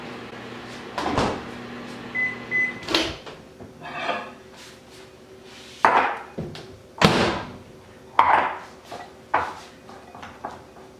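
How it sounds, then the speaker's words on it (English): Kitchen sounds as a microwave oven is opened to take cooked morsels out: several sharp clunks, knocks and door thuds spread irregularly, with a brief beep and rattling of dishes, close and fairly loud, no talking. "so now I'll take them out of the microwave."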